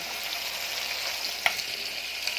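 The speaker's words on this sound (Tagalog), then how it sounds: "Itong pinipinirito natin." Steady, dense sizzling of sweet potato leaves and moringa frying in a pan, with a few sharp pops and crackles standing out over the continuous hiss.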